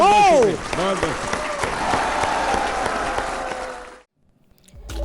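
Audience applause for a singer at a poetry gathering, a crowd clapping steadily under a speaking voice and music, then cutting off abruptly.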